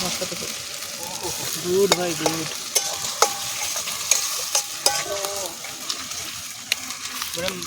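Meat fries in a pan at an outdoor picnic while a utensil scrapes and stirs in repeated strokes over a soft sizzle, with voices and livestock-like calls nearby.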